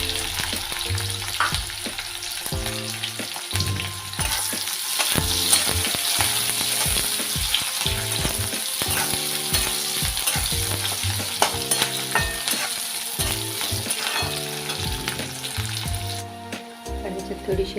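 Chopped large onion and two green chillies fry in a pan for a cauliflower and potato bhaji, a loud, constant sizzle with stirring scrapes under rhythmic background music.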